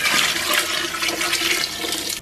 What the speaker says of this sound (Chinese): 然后给里边稍微来点水